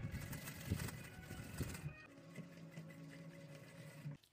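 A sewing machine stitches piping cord along a neckline with a close, steady whirring run that stops partway, leaving faint room noise and a quieter hum.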